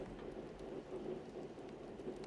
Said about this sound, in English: Storm is getting worse.